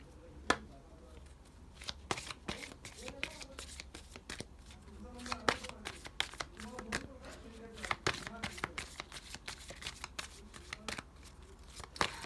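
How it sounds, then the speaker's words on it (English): Cards are shuffled repeatedly, producing rapid papery riffles and taps at a steady pace, with soft talking in the background. "I'm going to shuffle and pull out some guidance cards"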